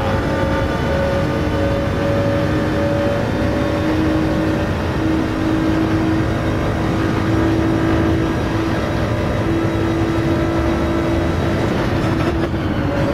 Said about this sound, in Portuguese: O V6 de turbo em ação.